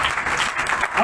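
Brief burst of loud applause from a church congregation, continuous close clapping that lasts about a second.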